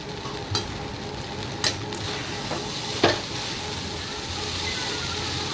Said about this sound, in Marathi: आता हळद टाकलेली आहे आणि आता शेंगदाणे भाजलेले आणि पोहे टाकून छान मिक्स करून घेत आहे.